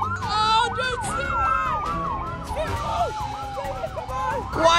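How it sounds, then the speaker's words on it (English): Several overlapping sirens from a fire truck and a police car wail and yelp together, loud and close, with rapid sweeping tones and some car noise and voices mixed in. "I'm a fire truck, you can't pull over a fire truck. I got sirens too."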